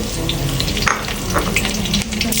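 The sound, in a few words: sautéing lemongrass, bay leaves and galangal in oil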